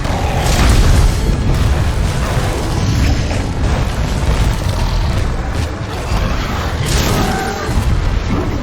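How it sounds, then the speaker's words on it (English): In Monster Hunter World: Iceborne, a hammer's Big Bang charge attack raises and slams into the ground, producing a loud series of heavy booming impacts and bursts over thick game combat noise, with no talking. "It starts with raising the hammer up and then slamming it on the ground."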